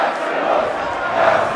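Arena crowd in the film Gladiator roaring and cheering together, a dense, steady wall of many voices that swells slightly toward the end.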